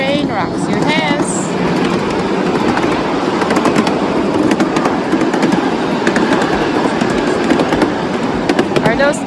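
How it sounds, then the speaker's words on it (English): Mini train ride at Iron Horse Park in Airdrie, Alberta: a steady, loud rumble and clatter of the small train running continuously close by, with people talking over it. "There's a train"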